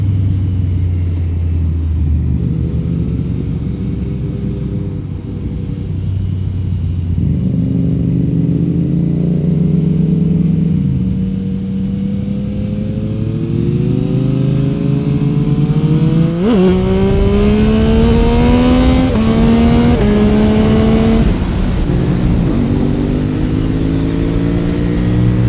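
Motorcycle engines drone steadily at speed on an open road into Auckland, with rising and falling engine pitch as riders shift gears and vehicles pass from the opposite direction amid constant loud wind rumble.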